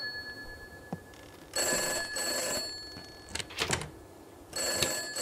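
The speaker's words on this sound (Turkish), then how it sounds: "Telefon çalıyor evde." A telephone rings inside a house in a horror video game, its bell trilling in several repeated bursts with short pauses, moderately loud among faint footsteps and handling noises.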